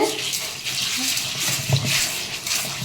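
Water runs and splashes as ration rice is rinsed for idli batter, giving a continuous close wash of trickling and sloshing with a few brief knocks.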